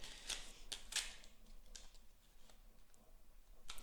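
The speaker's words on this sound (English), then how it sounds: "I think I have to shuffle them sideways" Tarot cards being shuffled, with several soft, crisp riffling bursts and flicks spaced across the clip, fairly faint and close, with no talking.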